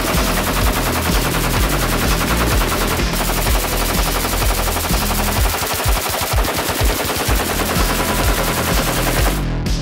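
AK rifle fire at a competitive AK-only shooting match: loud, dense, rapid bursts of close gunshots running continuously with no pauses, sharp and heavy throughout.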